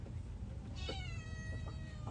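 A cat meows a few times, drawn-out and moderately close, over a steady background hum with no talking.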